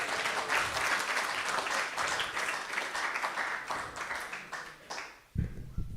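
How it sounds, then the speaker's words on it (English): A lecture audience at a Sunday feast gathering applauds steadily for several seconds, a dense wash of many hands that fades out near the end before a low thump. "So let's give a round of applause for Gita Mataji for a wonderful class."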